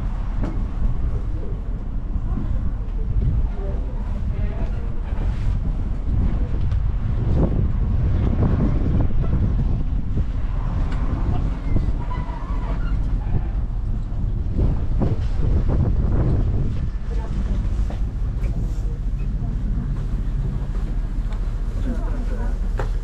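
Strong wind blows outdoors in the snow at minus seven degrees on the Appi Plateau ski area, a continuous loud roar that buffets the microphone in gusts throughout, with faint voices under it.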